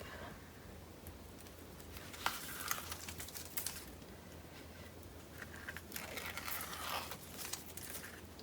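Backing being peeled off double-sided tape while crafting a wedding mini album cover: quiet, close crinkly tearing and rustling in short bursts over a soft room hiss.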